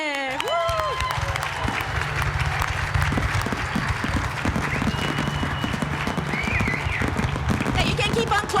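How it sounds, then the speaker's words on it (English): An audience claps and cheers at a 25th anniversary business hall of fame awards ceremony, with steady loud applause and scattered whoops filling the hall throughout. "Now you can keep on clapping and cheering."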